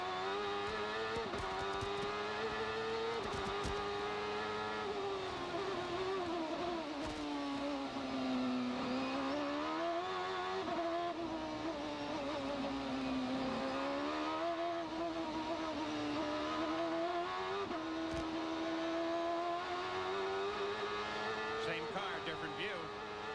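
Onboard engine of a CART Indy race car during the 1996 Molson Indy Toronto, a loud continuous drone whose pitch rises and falls through gear changes and corners for the whole stretch.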